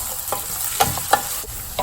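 Sliced onions and small shallots fry in a pan with a steady sizzle, broken by a few soft stirring scrapes and clinks close by.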